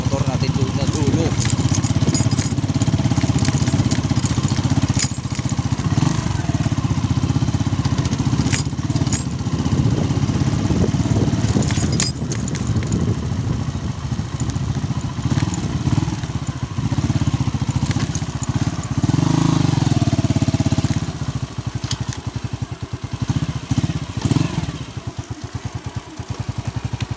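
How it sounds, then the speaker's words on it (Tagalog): A motorcycle engine runs steadily close by, a low rumbling idle throughout, with people talking over it at times. "Parada natin yung motor natin doon na dulo."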